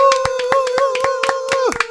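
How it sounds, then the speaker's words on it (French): Rhythmic clapping from a studio audience on a French TV quiz show, with crisp, evenly spaced claps over a sustained tonal sound. "Applaudissez-la s'il vous plaît."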